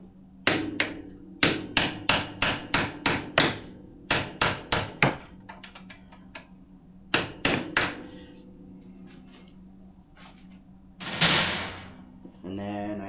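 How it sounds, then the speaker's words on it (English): A hammer drives a punch against a bolt on the rear shock mount of a 2008 Kawasaki Brute Force 650 ATV, ringing out in rapid runs of sharp metallic strikes, first about seven, then a few shorter bursts, with a scraping rustle near the end. "we'll take a hammer and a punch and get that out"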